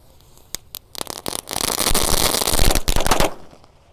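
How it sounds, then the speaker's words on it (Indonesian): A full pack of "telur dino Thor" firecrackers goes off at night during Ramadan celebrations, a few sharp opening bangs followed by a dense, loud rapid crackling burst of explosions that cuts off after about three seconds. "ini telur dino Thor, kita nyalakan 1 pak sekaligus ya."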